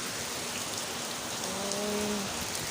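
Steady rain falls continuously as an even hiss, with a faint tonal hum briefly rising underneath.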